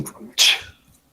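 A single sharp sneeze bursts out near the mic after a moment of quiet, with faint murmuring before it.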